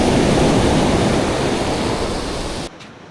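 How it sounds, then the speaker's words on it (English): Ocean surf washing steadily against a Florida fishing pier at Sebastian Inlet, a loud continuous broadband rush that cuts off abruptly near the end. "let the water come towards you, and just when the water starts going back"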